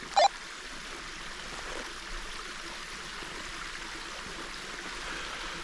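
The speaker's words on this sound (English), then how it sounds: "I'm down by the creek." Steady broadband rush of a creek flowing in a snowy Vermont woods in March, continuous and moderately loud, with a brief sharp sound near the start and no talking.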